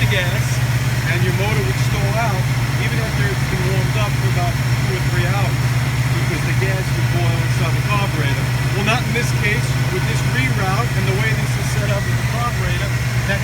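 A 1966 Fastback GT clone with a carburetor and new electronic ignition idles steadily after starting, a loud, close, even rumble under continuous talking from a man nearby.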